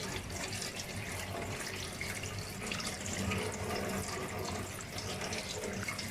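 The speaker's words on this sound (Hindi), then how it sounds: "चलें जी, हमारी कलेजी धुल गई है" Tap water runs into a sink, rinsing mutton liver, a steady close splashing stream with small gurgles and drips that continues throughout without speech.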